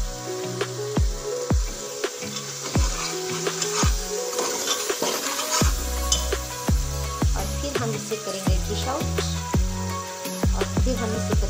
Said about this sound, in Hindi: तवीवर, कलेजी हमारी भून रही है, हम इसे अच्छे से भून लेंगे